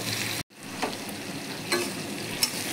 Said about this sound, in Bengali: পটলকেও একটু লাল লাল করে ভেজে নেব।